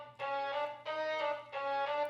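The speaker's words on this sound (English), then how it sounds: "nice little string solos here as well" A synthesized string solo built from an Ableton stock sound plays three sustained, bright harmonic phrases separated by short gaps, loud and close with no voices.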